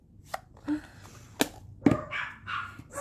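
Dogs yapping in quick, irregular short barks, close by and fairly loud over a low hum, with no voices.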